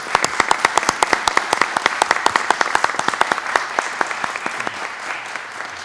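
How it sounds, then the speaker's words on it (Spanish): Applause breaks out at a municipal citizen security committee meeting, honoring a police captain: a modest group claps sharply with distinct, rhythmic hand claps that stay loud, then gradually loosen and soften. "Yo voy a pedir un aplauso para la capitana"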